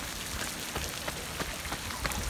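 Steady rain patters onto a street gutter, with fine broadband hiss and scattered sharper drop taps close to the microphone, no voices.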